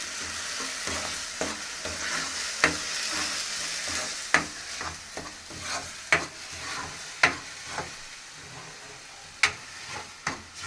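Onion paste with garlic and cumin fries in a pan for fish curry, a continuous soft sizzle broken by repeated sharp scrapes and knocks of a spoon stirring at irregular intervals.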